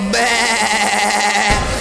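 A wavering, sustained goat-and-sheep style bleat rings out loud over a thumping reggaeton beat, holding for over a second before the music drops away.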